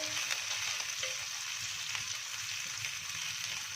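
Ginger garlic paste sizzles on a small tawa as kaleji masala cooking begins, a steady close hiss of frying with faint clicks and no voices.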